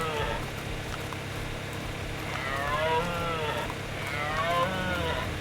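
A deer in a video game giving loud, cow-like moos, a few drawn-out bellowing calls repeated close by over a steady background hum.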